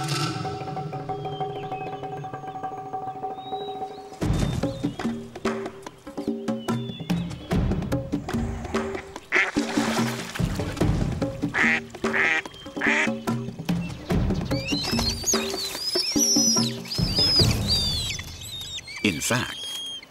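Ducks quacking near irrigation canals, with repeated calls of varying loudness scattered through the clip and higher-pitched bird calls joining toward the end, no speech.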